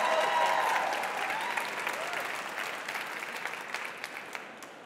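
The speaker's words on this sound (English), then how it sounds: "let's give them a thunderous round of applause, a lot of energy, a lot of excitement" An audience applauds to welcome a contestant on stage at a TEDx event, with dense, loud clapping that starts at full strength and slowly thins out and fades over a few seconds.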